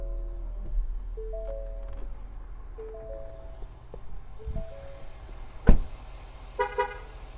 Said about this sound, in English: the horn that honks when you close the door if you have the truck on